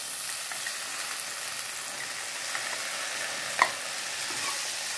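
Okra with green chili stir-fries in a hot pan, a soft, even hiss of frying with one sharp click of a utensil partway through.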